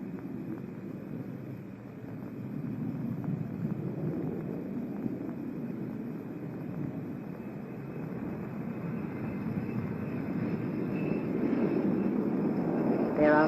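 Allegheny Airlines airliner engines throttling up for takeoff, a low sustained roar that builds steadily in loudness toward the end, close and continuous.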